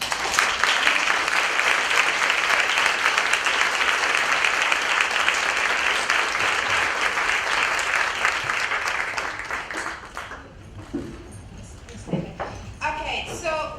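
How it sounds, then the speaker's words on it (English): Audience at a UN Women HeForShe launch event applauds steadily for about ten seconds, a dense wash of clapping that fades out into a quieter room with murmurs. "A round of applause."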